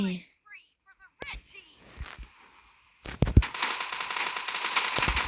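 UMP submachine gun fire in PUBG Mobile. Quiet game sounds and voices come first, then a loud, dense stretch of rapid shots and gunfire noise fills the last couple of seconds.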